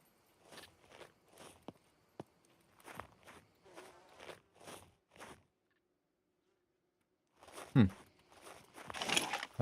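Footsteps in the survival game SCUM come as a regular run of soft, even steps, a pause of quiet, then a louder burst of movement near the end.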